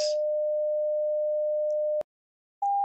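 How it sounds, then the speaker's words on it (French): A pure 600 Hz sine tone rings evenly for two seconds before ending with a click; a brief pause follows, then a higher steady tone starts. "Troisième son à 600 Hz."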